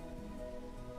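Rain falls in the Minecraft video game as a faint, steady, even hiss of drops with no other sounds.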